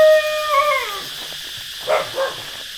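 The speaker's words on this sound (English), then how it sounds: "Cute friendly dogs." Dogs on a rural Thai island let out a rising howl with yips at the start, then a couple of short, closer barks a moment later, fairly loud with no talking.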